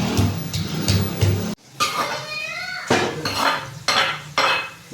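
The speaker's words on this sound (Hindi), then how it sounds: "अच्छी तरह भून लेंगे हम।" A metal spoon stirs and scrapes garlic, ginger and chili paste frying in a pan, with repeated clinks and scrapes against the pan and a soft sizzle between them, close and fairly loud, and no talk.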